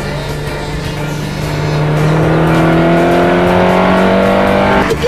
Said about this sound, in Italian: Senti che bel suono al motore.